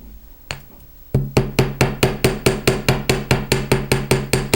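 Steady metallic chasing hammer strikes ring out one after another in an even rhythm on metal, close and loud, after a couple of quieter taps at the start.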